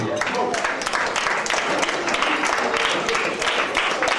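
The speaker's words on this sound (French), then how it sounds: "Est-ce qu'on peut applaudir pour notre Dieu?" A church congregation at a special agape gathering claps in praise, a loud busy patter of many hands with voices and cheers mixed through it, continuing steadily throughout.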